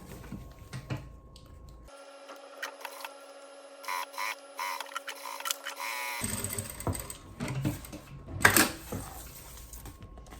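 A sewing machine topstitches a fabric strip along the bottom edge of a zippered cosmetic pouch, running in quick, uneven bursts of mechanical rattle with pauses between them, fairly close and moderately loud.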